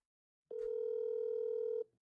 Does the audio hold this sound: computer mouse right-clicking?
no